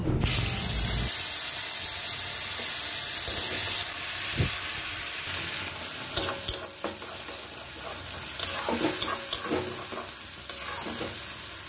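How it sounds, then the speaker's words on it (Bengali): Onion dropped into hot oil left from frying fish for doi katla, bursting into a loud spitting hiss that settles into a steady close sizzle, broken by a few sharp clicks of a utensil. "এবার আমি ওই তেলের মধ্যে পেঁয়াজটা দিয়ে দেব"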